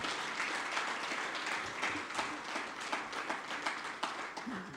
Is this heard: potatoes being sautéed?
no